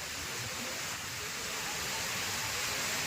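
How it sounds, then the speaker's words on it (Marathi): The Girna river surges strongly after heavy water, making a loud, unbroken hiss-like roar of rushing current that stays close and even throughout. "सगळीकडून पाणीच पाणी चाललंय. किती जोरात वाहत आहे बघा."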